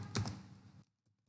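A brief burst of computer keyboard typing while entering JavaScript code, a few quick close keystrokes that stop abruptly into near silence with faint clicks after.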